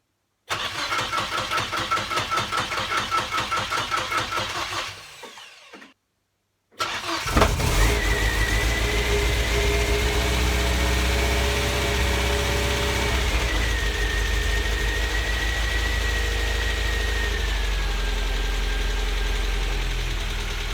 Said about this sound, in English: It's time to give it a go and see if the engine will turn over